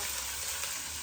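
Onion, ginger and garlic sizzling hard in a pan for a Kochi-style tuna-head curry, a dense, even hiss that carries on steadily and close up, with no talk.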